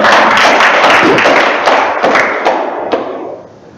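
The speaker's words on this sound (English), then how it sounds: "You should clap us. Welcome those guys." A seminar audience applauds in a welcome, a dense wash of many hands clapping at once, loud and close, with a few sharper claps standing out before it thins and fades away near the end.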